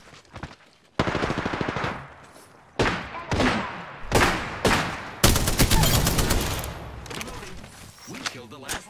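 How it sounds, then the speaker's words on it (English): Gunfire in the Apex Legends video game: repeated bursts of rapid automatic fire and single heavy shots, loud and close, with quieter gaps between volleys and speech around. "Listen up, I'm getting shot at."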